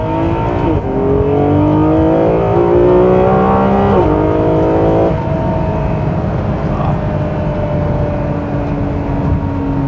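A Ferrari 6-liter V12 revs hard, its loud, rising engine note broken by sharp downshift blips with rev-matching barks, then settling into a lower drone.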